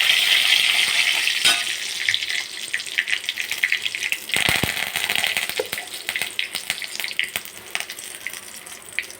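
Mustard seeds, urad dal and curry leaves fry in two ladles of hot oil in a kadai, a close, continuous sizzle peppered with sharp pops and crackles throughout, with no voices.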